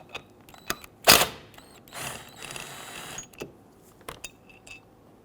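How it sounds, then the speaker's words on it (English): Metal clicks, a short ratcheting burst and scraping from loosening and pulling the brake caliper slide pins on a 2011-2023 Dodge Charger's front brakes. A loud burst comes early, followed by scattered tool knocks and rustling, with no talk. "I want to get loosen and remove our slide pins."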